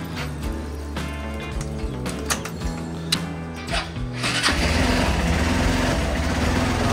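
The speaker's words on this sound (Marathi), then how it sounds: "कोल्ड स्टार्ट करूया" A motorcycle cold-starting in the morning before a solo highway ride from Mumbai: mechanical rattling and clicks with uneven bursts, then the engine catching around four seconds in and settling into a steady, fuller running drone close by.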